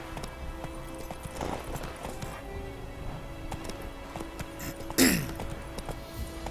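Horse hooves thud in a steady clip-clop as a mount rides through a wheat field in the video game Witcher 3, with a sharper swishing burst near the end, moderately loud and alone.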